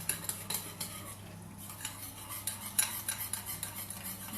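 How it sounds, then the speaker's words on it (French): A utensil stirs powder into a vegetable loaf mixture in a bowl, producing a quiet, irregular series of scraping clinks and taps against the dish, close and steady, with no talking. "vous mélangez bien votre poudre"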